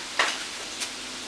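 Ground turkey hits a hot pan with a brief sizzle that flares up and then settles into a soft, steady frying hiss, with no voices heard.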